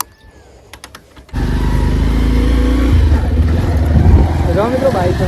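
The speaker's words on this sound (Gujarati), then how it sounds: "જો મિત્રો બાઈક તો ચાલુ થઈ ગયો." A motorcycle engine catches after a few clicks and settles into a loud, steady close-up idle with a rough rumbling chug. A person speaks over the running engine.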